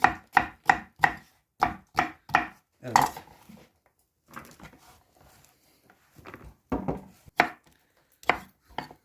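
A knife chops bell peppers rhythmically on a cutting board, a quick series of crisp thuds, then pauses, with a few more cuts and a brief spoken word.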